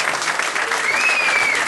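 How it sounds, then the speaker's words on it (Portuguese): Loud, dense crowd applause for a performer at a party in a bar in Nazaré, continuous clapping filling the room, with a thin whistle rising over it partway through. "Uma salva de palmas para ele."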